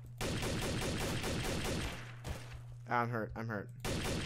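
Fast automatic gunfire from another player in Garry's Mod Trouble in Terrorist Town rattles loudly for about two seconds, pauses while a voice speaks, then resumes briefly at the end.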